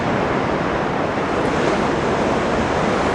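Ocean surf breaking at a beach surf spot near Anglet, a loud, dense, continuous wash of broadband roar with some wind rumble on the microphone, steady and unbroken, with no speech.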